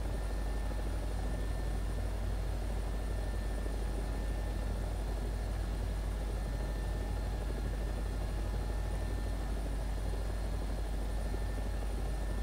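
A helicopter flies in the combat video game War Thunder, its steady rotor and engine drone constant and even throughout, with no talking.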